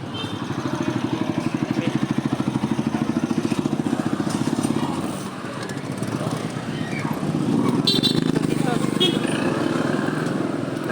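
A noisy motor vehicle passes close by with a rapid, rattling engine pulse that swells, dips and returns, while a person talks over it.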